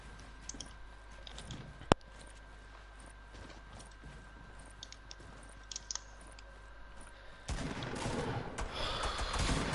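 Pistol gunfire in the video game Fortnite: scattered single shots ring out at irregular intervals, one sharp crack standing out, over low game ambience, with a louder burst of noisy action near the end.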